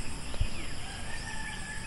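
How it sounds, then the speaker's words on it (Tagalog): Faint bird calls and chirps drift over a steady insect drone at a nature campsite in Laguna on a cool morning, with no talking. "Nakaka-relax yung mga huni ng ibon, ng ibang hayop, sa mga kuliglig."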